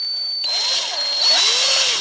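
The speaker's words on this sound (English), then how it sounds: "I've just started to drill with a small drill, just so that it's easier for me with this big drill" A power drill boring out rivets on a Corgi Volkswagen 1300 Motor School model car being restored, a steady high whine with the pitch rising and falling as pressure changes, close and loud.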